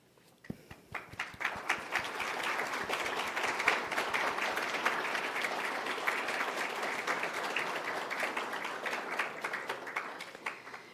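An audience at an annual scholarship celebration applauds the donors with a warm, sustained round of clapping that fills the hall steadily for about ten seconds before tapering off at the end.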